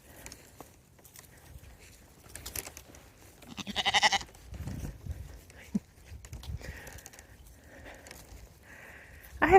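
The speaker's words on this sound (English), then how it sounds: "I have never had sheep before, never thought about it, but I just love these little ladies." Sheep bleat intermittently outdoors beside a pot of sumac tops and pine trimmings, with a louder call around the middle and another at the end over quiet rustling.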